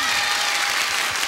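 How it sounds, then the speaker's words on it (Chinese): A studio audience on a 1995 variety show bursts into brief, dense applause, a loud wash of many hands clapping at once for just over a second. "掌声鼓励，谢谢。"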